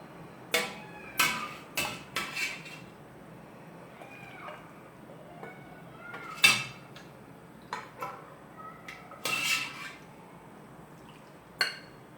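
Boiled bone-in meat being ladled into a bowl in a home kitchen: scattered clinks of a ladle against metal and crockery, several sharp knocks spread across a quiet background, with no talk.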